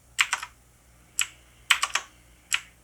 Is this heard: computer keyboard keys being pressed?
yes